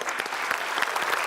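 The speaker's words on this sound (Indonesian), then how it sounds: "Kita kasih tepuk tangan dulu." A studio audience claps in a dense, steady burst of applause that fills the whole moment without letting up.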